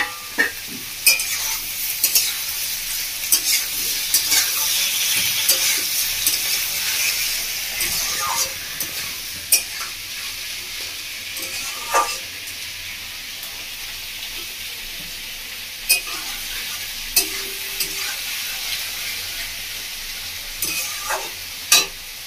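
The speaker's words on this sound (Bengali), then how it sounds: "এবার আমি দিয়ে দেবো কেটে রাখা টমেটো।" Chopped tomato stirred and fried in a pan for a Bengali tangra fish curry, with a steady sizzle broken by repeated sharp scrapes of a spatula, close and continuous.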